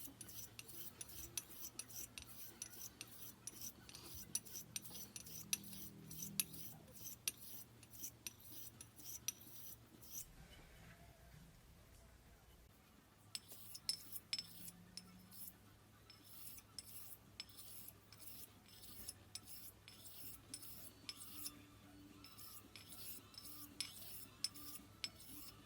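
A Thiers-Issard 1196 Evide Sonnant Extra straight razor is polished on a honing stone with a quiet, steady rhythm of fast scraping strokes. The strokes pause briefly midway, then resume at the same even pace.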